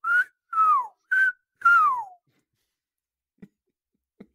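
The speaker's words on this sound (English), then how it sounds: "so much whistling" Four bright, clear whistled phrases from a song, each a sliding melodic whistle, come in quick succession, followed by near silence and two faint soft clicks.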